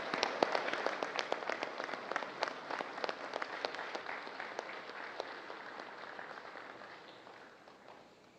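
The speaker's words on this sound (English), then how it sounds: "please welcome with a warm round of applause the President of the Republic of the Philippines, Ferdinand Romualdez Marcos Jr." Crowd applause greeting the President of the Philippines at an Armed Forces ceremony, a strong burst of clapping that gradually thins and fades over about eight seconds, with no talk over it.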